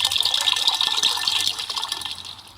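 Water being poured in a video game, a loud continuous splashing gush close up that eases slightly toward the end.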